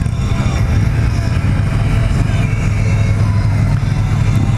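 A 2017 Victory Octane motorcycle on a test ride gives a loud, continuous low engine drone with wind rush, holding steady without pauses.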